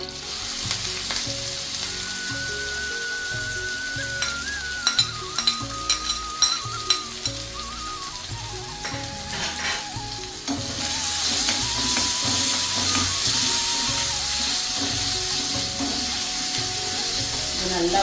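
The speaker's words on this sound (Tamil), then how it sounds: "பூண்டு, கருவேப்பிலை போட்டுக்கலாம்." Shallots, garlic and curry leaves frying in coconut oil in a pan, a continuous close sizzle that swells louder in the second half, with intermittent stirring clatter and no speech.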